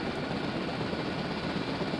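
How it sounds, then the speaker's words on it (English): A helicopter in the Dangerous Waters naval simulation game hums with a steady, even rotor and engine wash that stays constant throughout, with no voices. "Keep going, Mr. Helicopter."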